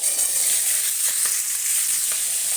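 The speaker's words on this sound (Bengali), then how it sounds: "এক পাশে কিন্তু মাছটা আমার ভাজা হচ্ছে" Fish fries on one side of a pan while vegetables sizzle in hot oil with cumin, making a steady, close, continuous hiss and crackle throughout, with no talking.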